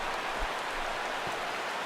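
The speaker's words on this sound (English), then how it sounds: "the rain continues to fall here" Steady rain falls in the baseball video game MLB The Show 16, a continuous broadband hiss of drops at even loudness across the whole short stretch, with no voices over it.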